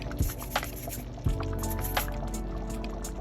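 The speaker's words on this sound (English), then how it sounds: "Grab up a piece, spin in my hand, drop it in the pot." Dumplings dropped into a pot of simmering Jamaican stew peas, making two soft wet plops against a steady bubbling, liquid background.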